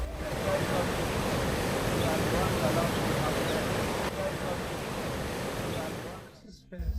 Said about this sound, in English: As we approach the falls, the river narrows and the current intensifies.